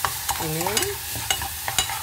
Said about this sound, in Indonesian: Sekarang diaduk-aduk, digoreng-goreng, digongso-gongso ya.